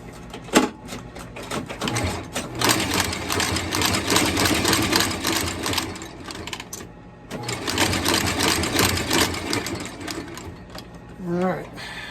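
A sewing machine stitches through a boot sole on vintage Vasque boots, running in two long, steady bursts of rapid mechanical chatter with a short pause between them, and someone talks over it.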